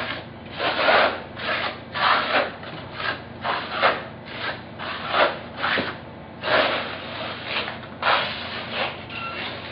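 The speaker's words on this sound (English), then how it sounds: "We're going to trowel it very thin, scrape troweling it." A steel trowel scrapes a very thin coat of A900 cement across a surface in steady, repeated strokes, each sweep a rough rasping rub at close range, with brief pauses between passes.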